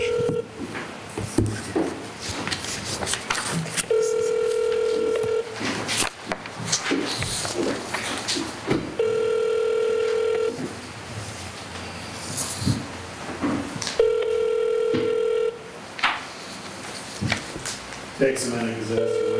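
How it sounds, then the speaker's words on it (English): A telephone call rings through to an office in three long, evenly spaced ring tones, while people in a meeting room talk over it amid shuffling and handling noise. "Takes a minute because it has to ring through the office."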